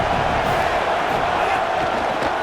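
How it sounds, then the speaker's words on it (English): A stadium crowd in the College Football 27 video game, Miami versus USC, cheers as a dense, continuous roar that fills the whole moment without a break. "This crowd bringing the energy and noise early."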